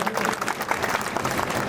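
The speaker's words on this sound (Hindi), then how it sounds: "जोरदार तालियां एक बार।" Dense applause from an audience at a community award ceremony honouring talented students, steady and loud for under two seconds with no talk over it.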